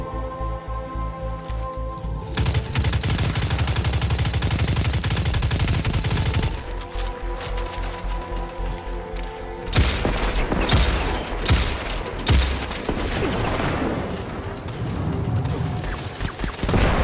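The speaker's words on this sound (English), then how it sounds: "Oh no, I'm wasting the bullets." Gunfire in the game Destiny 2, with streams of rapid shots and mechanical weapon clatter over a droning background, growing harsher and busier in the second half as crisp repeated cracks pile up.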